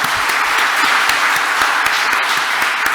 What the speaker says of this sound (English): Big round of applause for Susan, who put this all together.